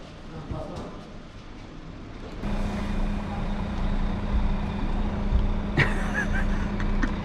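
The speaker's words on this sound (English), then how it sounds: "Nice bus." A bus idles at a bus station with a low diesel rumble and a steady hum that jumps louder partway through as it moves, and a sharp hiss of air brakes comes near the end.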